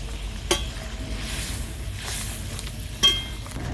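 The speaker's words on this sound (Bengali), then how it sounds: "দিয়ে দিচ্ছি ডিম।" Eggs go into a boiling gravy for Bengali egg curry, giving a steady soft sizzle and bubble with two sharp clinks of utensil against pan.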